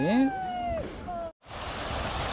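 Water from a fountain and waterfall beside a turning water wheel in a rose garden rushes in a steady, broad hiss. A person talks briefly at the start, and then the water continues alone.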